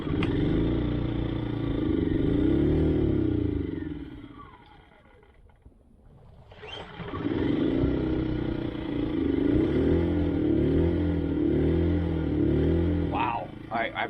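A backup generator engine runs outdoors on grass after starting up, a loud, steady, rumbling drone that dips away briefly in the middle before surging back, with people talking over it.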